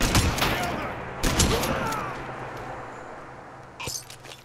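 Weapons firing in the video game Fallout 4, a few loud shots in quick succession near the start, then a decaying rumble and one more faint shot, with a voice talking briefly.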